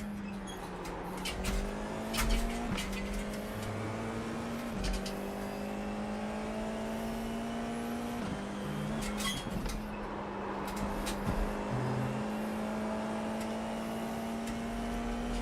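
Onboard roar of a Formula 4 race car on track at Virginia International Raceway: a loud, steady engine drone that steps through several gear shifts, with clunks and rattles and no talking.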